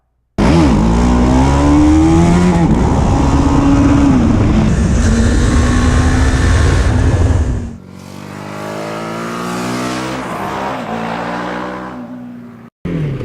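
A 2017 BMW G 310 R motorcycle engine roars close and loud while riding, revving up through gears with rising and falling pitch, then dropping to a lower steady drone before a brief cut.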